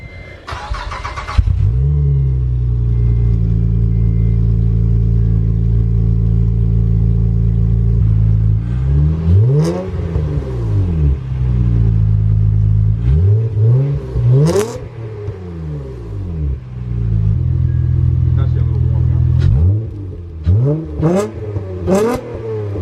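A car engine starts up and revs through a new aftermarket exhaust, settling into a deep, loud idle rumble, then climbing in several sharp throttle blips and revs before dropping back each time, with a quick flurry of revs at the end.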